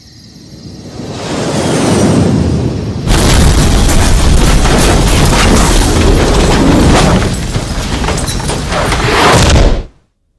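A loud movie explosion sound effect: a heavy boom that swells into a sustained, roaring rumble with debris-like crackle, then cuts off abruptly, with no voices.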